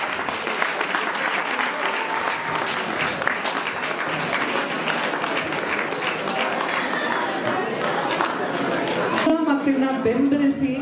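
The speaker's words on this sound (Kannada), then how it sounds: "ಜೋರಾದ ಚಪ್ಪಾಳೆ ಮತ್ತೊಂದೆ" Loud, sustained applause from an audience at a school event, dense clapping for about nine seconds before it thins out and a voice speaks over a microphone.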